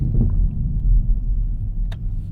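Chevrolet Camaro ZL1 cruising city streets in Northwest Detroit, a heavy low engine rumble heard from inside, steady and loud with no talking.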